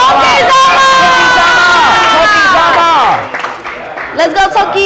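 Loud sumo arena crowd cheering and shouting a wrestler's name, many voices swelling together for about three seconds before breaking into scattered calls and cheers.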